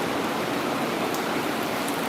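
Rain falls and water runs outside a back door in a small beach town in St. Lucia. A steady, dense hiss and rush holds evenly throughout, close and unbroken, with no voices.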